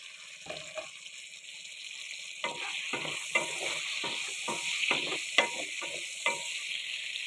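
Brinjals frying in a pot on a simmering stove, with a steady sizzle and repeated scraping, clattering strokes as they are stirred. The stirring comes in irregular bursts, close and fairly loud.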